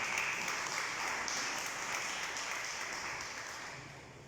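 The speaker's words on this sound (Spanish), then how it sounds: "Dame un aplauso a Dios, hermano." A church congregation applauds in a steady, dense wash of clapping that fades slowly toward the end.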